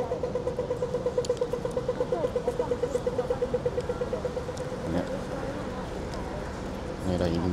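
A double-decker bus engine on a New Zealand street throbs in a steady pulsing rhythm nearby, then gives way to broader traffic rumble, with voices in the background.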